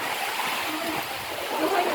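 Sea water splashes and washes at Tangkaan Beach in Burgos, Leyte, a steady close hiss of moving water with no clear individual waves.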